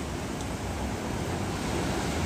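Sea surf washing sideways along a beach in Antique, Philippines, pulling sand back out to sea; a steady, close roar of waves under wind, with no voices.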